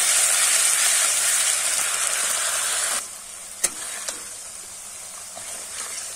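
Ginger-garlic paste fries in a hot pan with a loud, steady sizzle for about three seconds, then drops to a quieter crackle broken by a few sharp clinks of a utensil.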